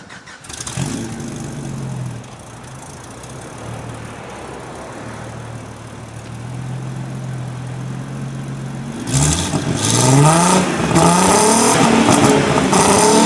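A car engine cranks and fires up after sitting unused for weeks in minus 19 cold. It settles into a steady low idle, then revs loudly in rising and falling bursts near the end, with no voices.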